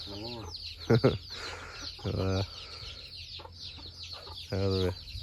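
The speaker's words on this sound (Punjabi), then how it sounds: "ਉਹ ਆ ਗਏ ਨਹੀਂ ਮੁਰਗੇ ਰੋਟੀ ਖਾਣ ਵਾਸਤੇ" Several roosters cluck in short bursts close by as they come to be fed bread, with quieter scratchy farmyard noise between the calls.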